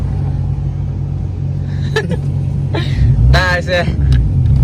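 A Honda Civic EK hatchback rolls along with a steady low engine hum and road rumble, while someone talks over it in short bursts near the microphone.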